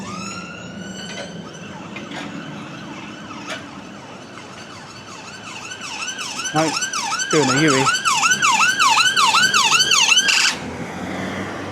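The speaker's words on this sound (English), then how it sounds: "All I've heard is sirens." A wailing ambulance siren rises and falls in rapid cycles on a street in Walthamstow, London, growing louder and closer before cutting off abruptly, with a brief spoken phrase early on.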